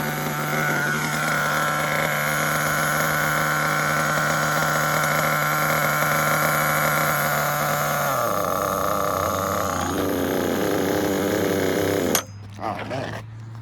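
A Losi nitro RC truggy engine idles loudly and continuously, its small high-pitched buzzing tone dropping in pitch partway through before cutting off abruptly near the end.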